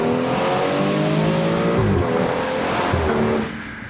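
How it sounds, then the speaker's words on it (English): A tuned BMW B58 engine revs hard and climbs in pitch through second gear, then briefly dips and rises again, loud and close with exhaust roar. "Let's do one more second gear pull."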